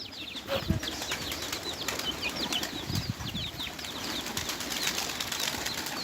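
Pigeons burst into flight with a flurry of flapping wings, the fluttering bursts close and repeated over steady outdoor background noise with scattered faint chirps.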